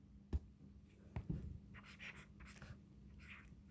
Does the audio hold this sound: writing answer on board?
yes